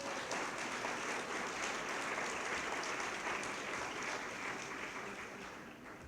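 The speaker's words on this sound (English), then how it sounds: "Can I please have a round of applause for these dynamic people?" Sustained applause from an audience, a dense steady clatter of clapping that fades slightly toward the end.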